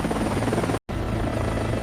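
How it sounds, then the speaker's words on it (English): A helicopter's rotors spin loudly and steadily as it lifts off on its first flight at a modern helicopter factory, a dense, continuous roar that fills the sound with a brief cut partway through. "The rotors begin to spin. Slowly, the helicopter becomes lighter on its landing gear and begins to rise."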